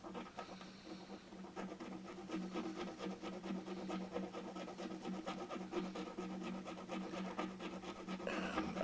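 A metal file rasps over a tiny ceramic horse figurine to smooth its finish, with quiet, continuous scraping strokes close up and no talking.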